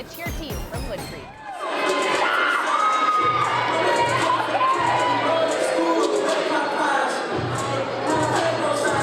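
The Wood Creek cheer team cheers and shouts at a school sports event, a loud, sustained roar of excited young voices and crowd noise that stays strong throughout, with rhythmic thumping underneath.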